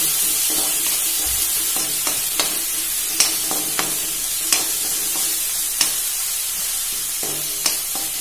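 Dry vermicelli (shevai) roasting in a pan with tomato, a steady soft sizzle and hiss broken by irregular sharp scraping taps of a spatula stirring, close and continuous with no voices.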